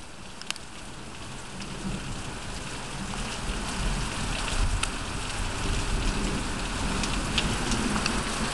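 Hard rain pours during a summer thunderstorm in Michigan, a dense, steady hiss of drops hitting surfaces that grows heavier midway, with faint thunder beneath and no talk.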